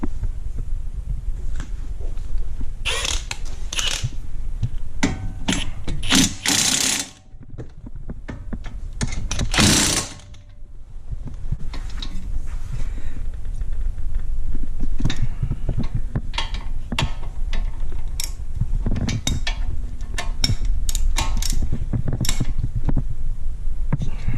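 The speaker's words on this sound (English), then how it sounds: "all I got left now is to tighten the 16mm bolts" Wrench tightening 16mm brake caliper bolts on a Mini Cooper S R53 front brake, a dense run of ratcheting metallic clicks, loud and close, with a brief pause midway before the clicking resumes.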